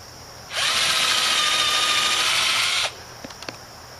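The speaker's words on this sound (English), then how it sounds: "We'll drill two pre-holes over here." A power drill bores a pre-hole into the wood of a rotted picnic table in one steady, loud whine lasting a little over two seconds, followed by a few faint clicks.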